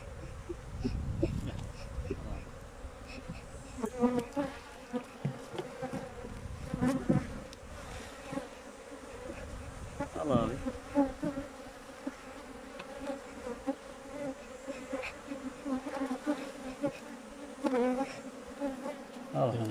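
Honeybees and plenty of drones buzzing around a hive during beekeeping work, a close, wavering drone with insistent individual buzzes rising and fading, people speaking faintly beneath.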